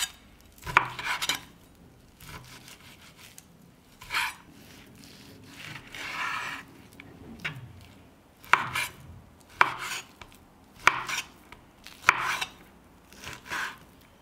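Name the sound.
knife cutting beef neck into smaller pieces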